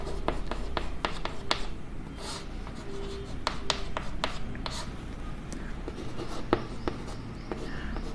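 Pen scratching steadily on paper while working out a median problem from a statistics table, a dense run of short, close strokes and taps with no pause.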